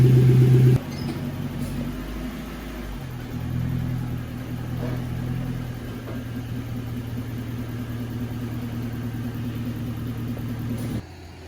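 A Lexus SC400 idles and backs up slowly. The steady low engine rumble starts loud and close, drops a little, swells briefly as it moves, then settles into an even idle before cutting off near the end.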